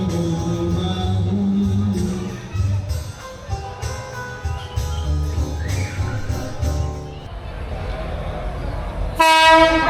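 Train at the Ambarawa railway museum in Indonesia, a loud steady rumble of rolling rail cars under crowd noise, ending with a sharp, bright horn or whistle blast in the last second.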